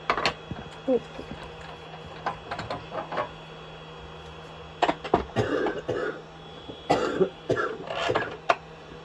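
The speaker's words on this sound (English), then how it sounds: "Because I've got a cough." Several separate coughs and throat clearings come in short bursts, spread out over a steady low mechanical hum in a woodturning workshop.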